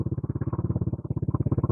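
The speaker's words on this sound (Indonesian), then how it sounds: "sekarang tambah suara motor nih, kurang lebih seperti ini" Motorcycle engine noise plays behind a call on a Lenovo SH1 Bluetooth headset, a steady, rapid, throbbing putter with even pulses that carries on throughout at moderate volume.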